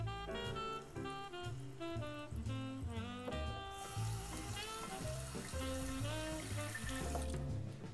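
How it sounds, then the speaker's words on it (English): Water pours into a baking dish of stuffed capsicums in a home kitchen, a steady hissing stream of about three seconds in the middle, quiet and heard under background music. "we're gonna add a little bit of water in here"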